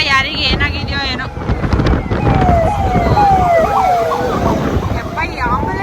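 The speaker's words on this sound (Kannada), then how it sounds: "ಈ ಆಂಬುಲೆನ್ಸ್ ಸೌಂಡ್ ಕೇಳಿದ್ರೇನೆ ಭಯ ಆಯ್ತದ ನನಗೆ" An ambulance siren wails at night along a road, its rising and falling tone sweeping through the middle of the clip over steady traffic and wind rumble, with a voice talking briefly near the start.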